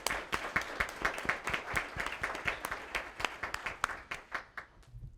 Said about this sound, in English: So let's all give a round of applause for Rick and Dan.